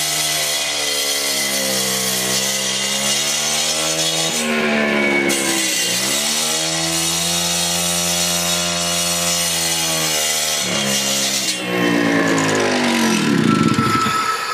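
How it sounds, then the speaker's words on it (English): A power saw cuts through flagstone during a repair, giving a loud, whining, strongly tonal grind that shifts in pitch as it bites, with two short breaks before it resumes harder. "So you just cut right through the two sides of it"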